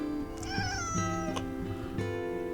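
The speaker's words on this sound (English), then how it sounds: "I have a cat." A cat meows three times in quick succession, close and fairly clear, in a quiet room with no talking.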